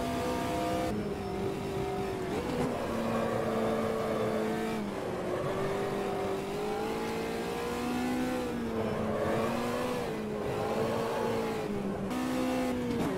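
Race car engine in the Automobilista 2 sim, revving hard and shifting through corners, with rising and falling engine pitch and brief gear-change dips, loud and continuous without talk.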